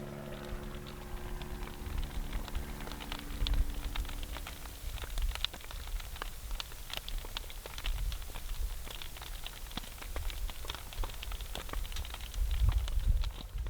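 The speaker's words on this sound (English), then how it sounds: "the cracking sound here, especially here, it's amazing. It's like rain." Flowing lava at an erupting volcanic fissure crackling and snapping continuously, a dense patter of sharp ticks much like rain on a surface, steady and fairly faint, with a low hum in the opening seconds.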